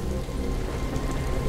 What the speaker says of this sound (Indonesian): Hujan turun makin cepat